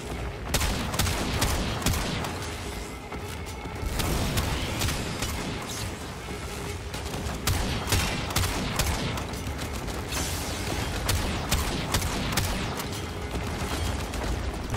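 Rapid gunfire from a secondary weapon in the video game Warframe during a fight with the Tomb Protector, with dense, continuous shots and impacts packed closely together and staying loud throughout.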